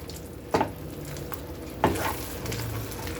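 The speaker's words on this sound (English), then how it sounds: "And let's lower this heat a little bit. It is boiling." Pot of chorizo chili beans bubbling and sizzling on a stove, a steady close hiss with two sharp clanks of a stirring spoon against the pot.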